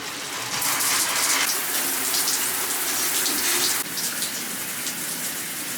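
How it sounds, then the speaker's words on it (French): A running shower hisses and patters continuously, the spray changing briefly in tone partway through as the stream shifts, with no one speaking. "on va aller prendre la douche"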